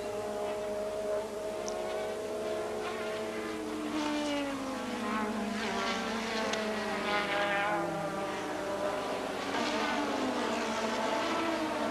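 Formula One cars from the 1986 season race at speed, their high-pitched engines wailing and shifting pitch as they pass, with a continuous layered whine throughout.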